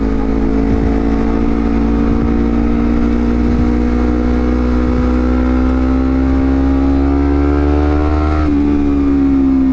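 A Honda CBR250RR motorcycle engine pulls loud and close, its pitch climbing steadily through a gear, then dipping briefly at a shift before rising again over wind rush.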